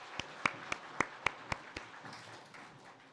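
Church congregation at a New Year Sunday worship service claps: about seven sharp, distinct claps in quick rhythm, quiet and spread out, fading away with no talking.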